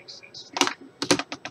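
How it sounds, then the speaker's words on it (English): Keys clacking on a new metal computer keyboard during a gaming session, a few quick bursts of taps close to the mic with a short gap between them. "a new flipping keyboard. Look at that."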